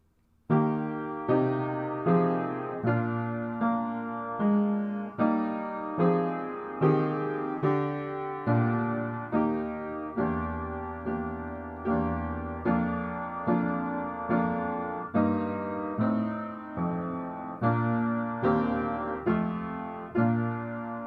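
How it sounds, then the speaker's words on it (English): Solo piano plays a slow, steady Bach aria accompaniment, rolling broken chords with a low bass line, evenly paced and close, with no voices. "there is a piece called the aria, and the piano part is like this"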